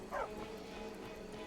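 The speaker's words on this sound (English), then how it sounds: "Stray dog. It's not Barcus." A stray dog in the video game Skyrim gives a single short yelping bark near the start. A low game ambience continues underneath it.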